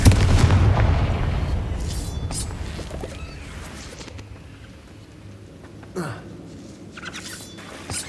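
A Confringo blasting spell goes off in Hogwarts Legacy, a loud booming burst at the start that rumbles and fades, followed by quieter crackles and a second smaller impact.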